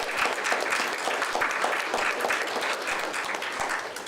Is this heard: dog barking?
no